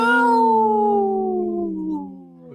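A single long wolf howl sound effect plays on a radio show, a clear tonal cry that holds steady and then slowly slides down in pitch before fading, loud and alone without talk.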